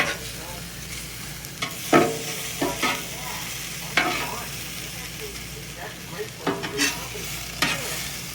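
Food sizzles on a Blackstone griddle while a spatula scrapes and pushes it back into a pile, producing repeated metallic scrapes and taps over a continuous close frying hiss, with a faint murmur of voice.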